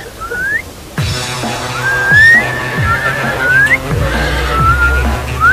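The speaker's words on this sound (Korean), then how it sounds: "휘파람 불어봐." Someone whistles in short rising and sliding notes, fairly close and loud, with scattered knocks and rustling noises underneath.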